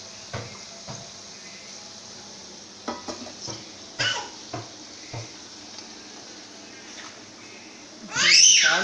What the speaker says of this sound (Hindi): उसी ऑयल में मैं प्याज डालने लगी